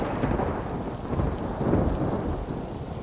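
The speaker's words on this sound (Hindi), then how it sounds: "तभी अचानक तेज बिजली चमकी और गड़गड़ाहट से पूरा पेड़ हिल गया" Thunder rumbles low and heavy through a steady rainstorm, with rain pattering across surfaces; the rolling booms swell twice and fade, loud and close, with no voices.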